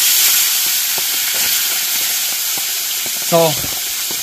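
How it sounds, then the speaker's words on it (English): Catfish for tacos sizzles steadily in a hot pan, a continuous close hiss throughout, with a brief spoken word near the end. "I'm gonna fry this up and then we'll get the tacos ready"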